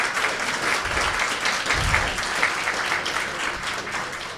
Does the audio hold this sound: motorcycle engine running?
no